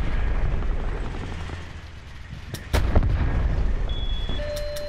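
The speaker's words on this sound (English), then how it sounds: "Shots inside asylum." Gunshots in Call of Duty Black Ops 4 ring out over a rumbling battlefield ambience, with a couple of sharp distant cracks and a heavier boom midway, fairly faint under the low roar.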